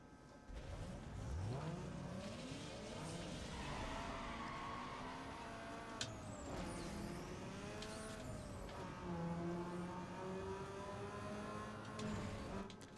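A race car engine in a Need for Speed Underground 2 drag race revs and climbs through rising gear pulls, a steady loud whine with shifts and no talking.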